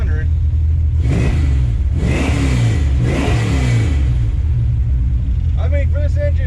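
A 1970 Plymouth Duster 340 V8 with a bone stock cam revving in three sharp bursts over a lumpy idle, close and loud, with a voice speaking briefly at the end.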